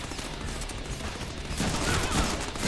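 Rapid gunfire in the Deadpool video game on Xbox One, a dense fusillade of overlapping shots and mechanical clatter, loud and continuous, swelling slightly toward the end.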